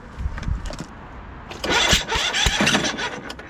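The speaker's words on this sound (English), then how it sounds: "It's like backfiring like crazy." Kohler Courage small engine runs roughly and backfires, uneven sputtering with several sharp pops and bursts, loud and nearby.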